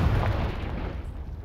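A Confringo explosion spell goes off in the video game Hogwarts Legacy, a dense, loud rumbling boom that fills the short moment and fades slightly toward its end.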